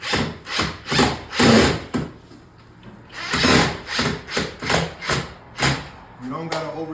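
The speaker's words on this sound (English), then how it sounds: "You literally just put the screw through there." A screw is driven through a pre-drilled hole in a window frame, giving repeated rhythmic pulses of grinding, whirring sound, loud and close, with short pauses between bursts.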